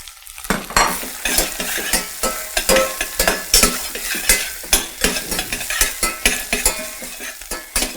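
Spinach sautéing with onion and garlic in a hot pan, a steady loud sizzle broken by rhythmic scrapes and stirs of a utensil against the pan throughout, with no talking.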